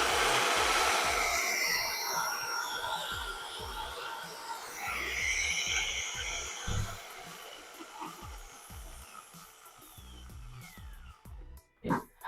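An electric drill running off a Bluetti AC50P portable power station gives a loud, continuous whirring motor drone that eases slightly, then ends in a few sharp knocks and bumps.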